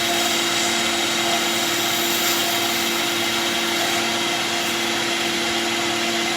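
A wood lathe spins a pen blank while a skew chisel cuts it, producing a constant, close whirring hum with a hissy cutting noise throughout.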